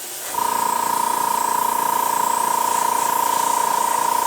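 An airbrush sprays paint to add detail on a model of the Battlestar Pegasus, giving a steady, close hiss with a constant tone that starts abruptly and runs on without voices.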